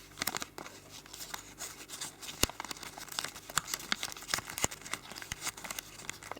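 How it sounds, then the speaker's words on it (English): Origami paper for a Shuzo Fujimoto hydrangea being folded back along its pre-creases, giving soft crinkling and rustling with several sharper crackles, close and fairly quiet with no talking. "just folding behind along the pre-creasing"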